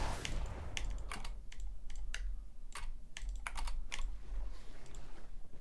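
Rapid keyboard clicks rattle out while playing League of Legends, sharp keystrokes arriving in quick bursts and clusters with short pauses between them, close and fairly loud over a low steady hum.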